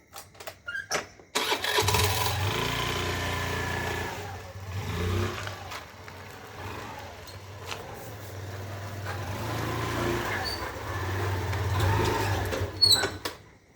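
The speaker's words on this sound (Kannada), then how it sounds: "ಗಾಡಿ ಹಚ್ಚೋದು ನೀನು" A vehicle engine is cranked and started after a few sharp knocks, then keeps running with a steady, close rumble that swells slightly now and then, with no talking.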